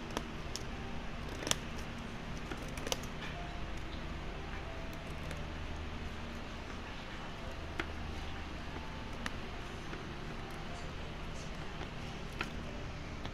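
Quiet, repeated snipping clicks of scissors cutting open a package at irregular intervals against a faint background hiss, close by with no talking.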